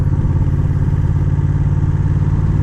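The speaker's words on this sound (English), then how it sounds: "the engine really likes revving" A 2025 Honda Rebel CMX1100 DCT motorcycle with a Stage 1 chiptune runs steadily with a loud, throbbing low engine note and mechanical clatter, sustained without a clear rise in revs.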